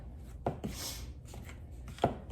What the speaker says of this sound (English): roll out those canned biscuits, and then just cut them into chunks and drop them in the broth